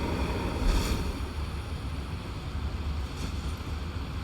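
Waterfall in the video game Elden Ring gives a steady, broad rushing roar of falling water, continuous and fairly loud throughout, with no voices over it.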